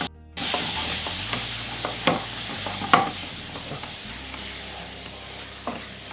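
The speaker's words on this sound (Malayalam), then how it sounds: "നമ്മൾ ചിക്കൻ ആഡ് ചെയ്യുകയാണ്." Chicken stirred into frying masala and onions for chicken kondattam, with a steady sizzle under repeated scraping strokes and a few sharper clacks of the spoon against the pan, close and fairly loud.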